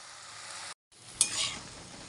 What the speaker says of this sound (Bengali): তো চলো এখন এটা ঢাকা দিয়ে দিয়ে একটু ভেজে নিই।